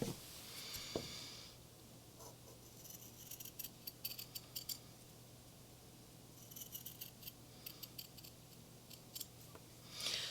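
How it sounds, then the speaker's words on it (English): Small scissors snip at a small doll face in a series of faint, crisp clicks and short cutting strokes, scattered in two clusters against a quiet room hum. "this might be a smidge big, so I'm going to cut it down just a little bit"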